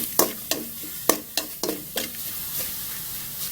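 Shrimp paste is dry-roasted in a pan with no oil, making a steady series of sharp scraping stirs and light sizzling at an uneven rhythm, close and fairly loud.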